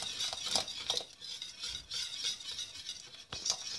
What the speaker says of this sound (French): Et je vais incorporer 200 g, voire 20 centilitres de crème liquide